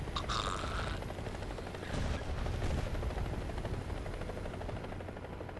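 Enemy helicopter in a tank video game, its dense rotor roar loud and continuous amid battle noise and without a break.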